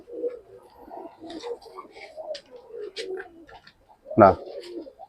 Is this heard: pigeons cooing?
yes